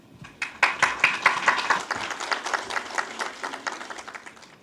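An audience at a geology lecture series on active faults gives a speaker a round of applause, starting sparse, swelling into dense clapping, then thinning to scattered claps.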